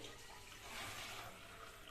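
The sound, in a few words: water being added to sago for bottle gourd payasam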